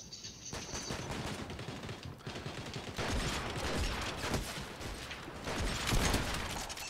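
Video game gunfire, dense rapid bursts of automatic fire that rattle on continuously at close range, with no pause for several seconds.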